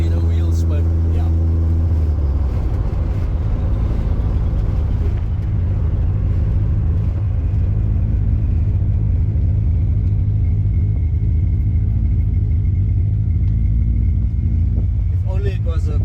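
A VR6-swapped car's engine drones in a loud low rumble while driving under acceleration, below fifth gear, holding steady throughout, with people talking inside the car over it.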